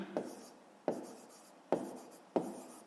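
A pen writes a fraction in a notebook, four quiet, evenly spaced scratchy strokes, each starting sharply and fading, with no talking over them.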